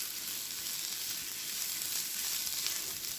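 Onions and other vegetables sauté in a hot pan, giving a steady, close, even sizzle with no talk over it.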